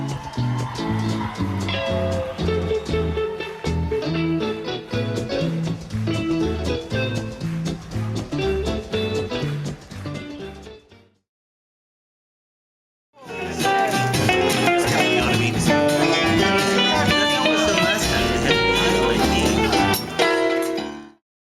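Dense, layered multitrack electric guitar parts playing together in a busy recording, breaking off into silence before resuming even fuller and louder.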